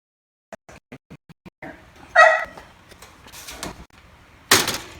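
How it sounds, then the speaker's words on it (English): A dog gives a run of short, evenly spaced barks, then a louder whine-like yelp and a sharp rising cry in a home kitchen while biscuits are being prepared, with clatter and movement around it. "Sorry for the dog. She's wants our attention."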